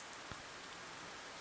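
Rain in the video game World End Syndrome falls as a faint, even hiss of steady rainfall, with a single soft drop standing out early on.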